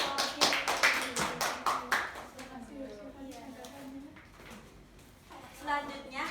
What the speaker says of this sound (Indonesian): Berikan tepuk tangan untuk Mbak Rafi dan kelompok kiri.